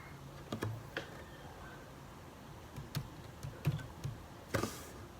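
Commands are typed on a computer keyboard while configuring network settings, with scattered close key clicks in short irregular bursts and a few louder taps, over quiet room hum.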